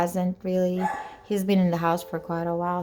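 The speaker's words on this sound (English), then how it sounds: "Sorry for my dog. I let him bark right now" A dog barks and yelps indoors in several close bursts while a person talks over it.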